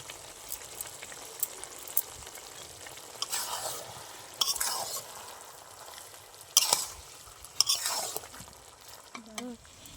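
Winter vegetables with cabbage, ground garam masala and chopped coriander being stirred in a pan, an intermittent scraping and sizzling that swells in bursts and sounds close by, with no talk.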